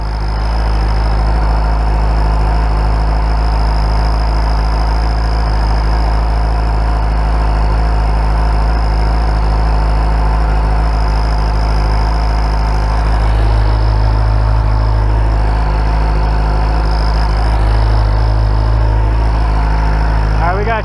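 A Suzuki GSXR 750 motorcycle fitted with a turbo exhaust whistle idles steadily, a loud, continuous low engine drone with a thin high whine on top, briefly swelling twice in the latter half.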